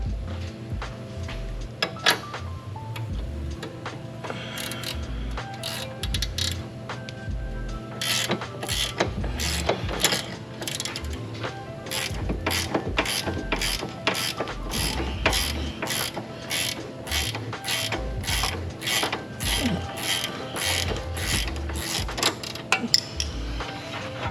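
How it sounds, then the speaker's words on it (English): A ratchet wrench turns in tight access on a Porsche 996/997 axle during a torn axle boot repair, clicking in fast repeated bursts close up with a mechanical hum underneath. "We'll set this guy up on tight access here with our ratchet wrench"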